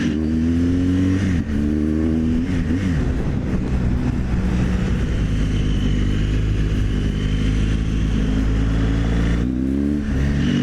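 A BMW motorcycle on Bridgestone AX41S tires rides along a highway in road mode, its engine a loud continuous drone with shifting pitch and rushing wind.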